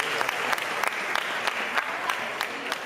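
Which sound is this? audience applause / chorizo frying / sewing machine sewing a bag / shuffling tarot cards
audience applause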